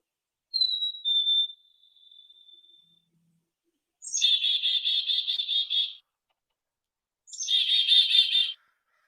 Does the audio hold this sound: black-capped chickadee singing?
yes